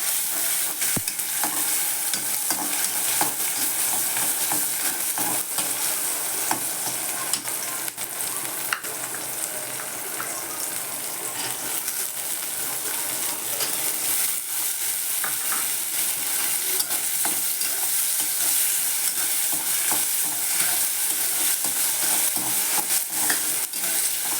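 Onion and tomato fry in a modest amount of oil for a Marathi kartoli (spiny gourd) vegetable dish, a steady dense sizzle with stirring scrapes throughout, close and continuous with no talking.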